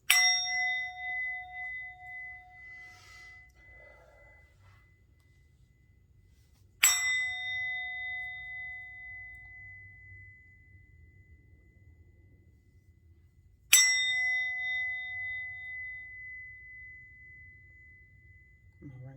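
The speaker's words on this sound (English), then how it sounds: "I'm going to ring the bell." A bell rung for cleansing sounds three times at even intervals, each a bright, clear metallic strike that rings out and slowly decays into quiet.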